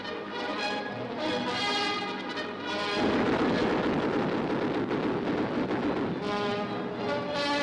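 Dense booming anti-aircraft flak and gunfire from a 1944 World War II air battle rumble continuously under a layered tonal drone, heavy and sustained, growing rougher midway.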